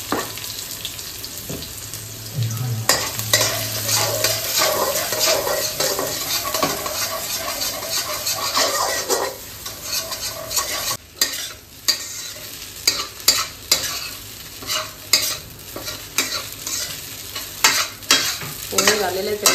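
Onion frying for pohe, a loud, continuous close sizzle with spatula stirring and scraping against the pan, the strokes turning quicker and more distinct toward the end.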